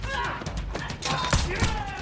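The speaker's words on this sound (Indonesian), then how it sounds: "Akan tetapi, John terkena tembakan di perut." A sharp gunshot in a film cracks amid a busy, noisy scene, with a voice talking over the commotion.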